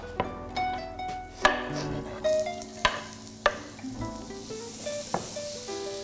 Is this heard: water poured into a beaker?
no